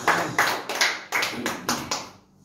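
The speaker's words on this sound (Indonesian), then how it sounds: "Tepuk tangan semua di rumah bagi Yesus" Congregation members at home clapping for Jesus during an online church service, a run of about seven sharp, close claps in an uneven rhythm with no talk.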